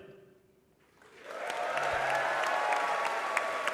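Applause at a St. Louis press conference announcing a Major League Soccer team, rising from a quiet room about a second in and swelling into steady clapping from a crowd, with a few sharper claps standing out.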